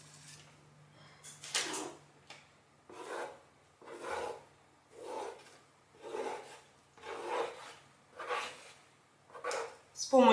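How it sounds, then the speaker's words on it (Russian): A chopstick swirls patterns through chocolate cherry cake batter in a steady series of soft, close scraping strokes, about one per second, with a voice speaking faintly in the background. "Теперь беру китайскую палочку и начинаю делать узорчики."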